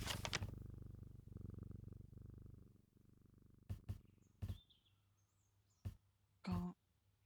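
A pet cat purring steadily for about three seconds, low and continuous, followed by quieter moments broken by a few short sharp knocks and rustles.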